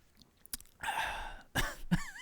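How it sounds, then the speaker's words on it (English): A few rough coughs, fairly quiet and close, come in uneven bursts with short breaths between them. "Start coughing on that one."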